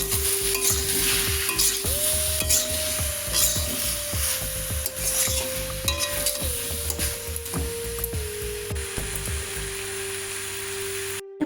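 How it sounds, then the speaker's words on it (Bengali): Potato and ridge gourd sautéed with spices in a pan for a katla fish curry: a constant hissing fry, with rhythmic scraping stirs of a spatula through it and a steady tonal hum in the background. "আলু আর ঝিঙেটাকে মশলার সঙ্গে ভালো করে কষিয়ে নেব।"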